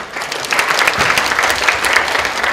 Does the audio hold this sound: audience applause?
yes